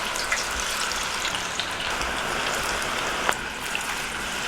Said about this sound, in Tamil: இப்ப பக்கோடா மசாலாவை எண்ணெயில போட்டு பொரிச்சுக்கலாம்